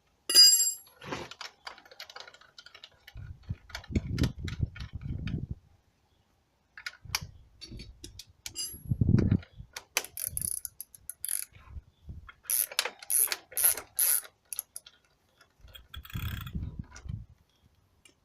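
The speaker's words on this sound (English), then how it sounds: "We'll get the crank extractor tool, wind it in, give it a little nip up." Crank extractor tool being wound by hand on a homemade electric mountain bike's crank arm, giving irregular ratcheting clicks and metallic turning in short bursts with pauses, close up and without talk.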